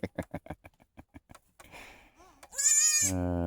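Goats bleat at a refuge where a nanny has just given birth to two kids: a run of soft rhythmic bleats and snuffles leads into a loud, sustained, wavering bleat up close.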